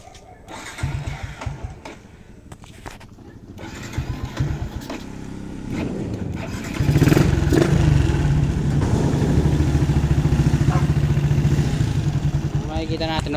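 A motorcycle with a newly fitted MBR1 racing CDI cranks and starts, then settles into a loud, steady running idle up close while someone talks over it.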